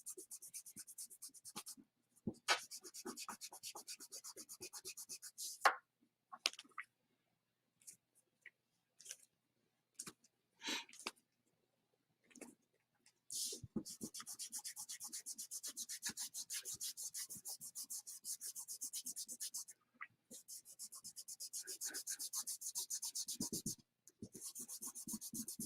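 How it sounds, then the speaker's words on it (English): A kneaded eraser rubs across paper to lift pencil lines, giving short scattered scrubbing strokes at first and then longer continuous bursts of close, soft friction. "Kneaded eraser."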